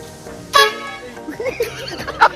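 A car horn blares in a short honk, then sounds again briefly near the end, with voices and background noise in between.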